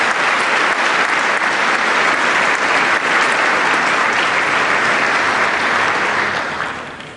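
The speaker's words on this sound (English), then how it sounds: "Let's give them a big round of applause." Audience applause at a charity gala, honoring donors: dense, sustained clapping from a large crowd, loud and steady throughout before tapering slightly at the end.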